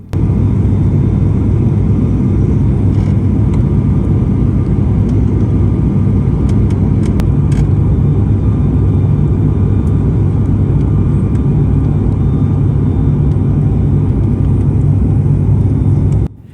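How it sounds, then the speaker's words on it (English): Steady, loud airplane cabin roar during descent into Belfast City Airport, a continuous broadband engine and airflow rumble holding unbroken throughout with no talk. "And here we are on our descent into Belfast City Airport."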